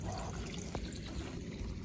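Water pouring steadily over a newly built waterfall spillway, a constant rushing splash heard close by without voices.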